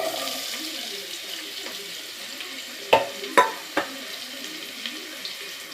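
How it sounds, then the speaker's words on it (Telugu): Chopped onions hit hot oil in a pressure cooker for chicken curry, giving a soft, steady sizzle with a few sharp clanks and scrapes of a spoon against the metal pot near the middle. "ఆయిల్ హీట్ అయ్యాక ఆనియన్స్ వేసుకోవాలి"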